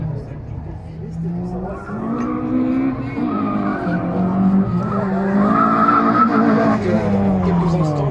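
A Renault Clio RS skids through a slalom course at a motorsport event, its tires squealing in long, loud, wavering tones under a revving engine that is heard from close by.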